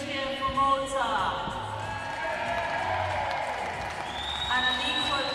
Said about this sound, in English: Let's hear a big cheer for Malta.